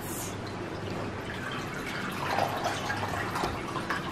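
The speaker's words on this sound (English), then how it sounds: "Squeeze all the water out." Water drips and trickles as a plush toy is squeezed out, a soft wet patter running steadily for a few seconds, fairly close and without talk.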